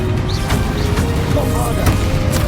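Confringo spell blast in the Hogwarts Legacy video game, dense low booms and crackling impacts amid busy combat effects, loud and continuous over a short stretch.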